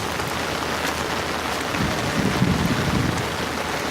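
Steady light rain falls on outdoor field plots, a constant hiss with a faint low rumble underneath and no voices.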